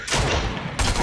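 Rapid bursts of Stinger SMG fire in Fortnite, two loud volleys close together with a brief lull between, sounding like sustained automatic shooting.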